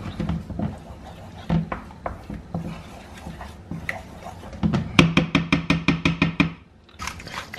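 A pepper grinder cranks over a double cream sauce for steak in whisky cream sauce, a quick run of about a dozen crisp, evenly spaced clicks after some scattered kitchen clatter and thumps.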